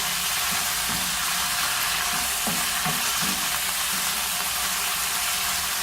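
Chicken pieces frying in about two tablespoons of hot oil in a pan, a steady loud sizzle with a few soft stirring knocks and scrapes, no talking.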